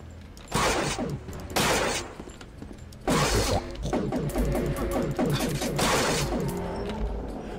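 Shotgun fire in a video game, several loud close blasts in bursts, each with a sharp crack and rattling tail, the later shots running together into a rapid stuttering volley.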